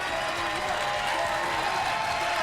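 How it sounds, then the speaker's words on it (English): Steady, dense applause from a large crowd at a Guilty Gear Strive top 8 esports tournament, continuous and loud throughout with a broad hiss of many hands clapping and faint cheering mixed in. "But one more time, a huge round of applause for Cheerio."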